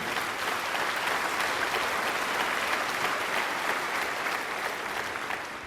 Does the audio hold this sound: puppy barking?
no